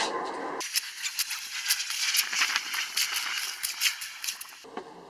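A hoe scrapes and churns wet concrete mixed with water for a rental house fence post, a dense gritty rattling and crunching that runs continuously for several seconds, close and fairly loud.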